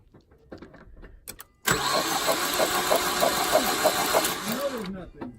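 A Mazdaspeed 3 engine cranks over during a cylinder 4 test, spinning freely without catching: a steady, loud mechanical whirring with rhythmic pulses lasting several seconds after a few faint knocks and shuffles.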